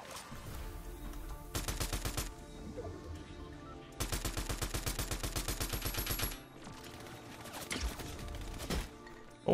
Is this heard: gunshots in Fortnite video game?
yes